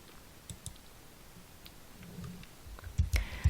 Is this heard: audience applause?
no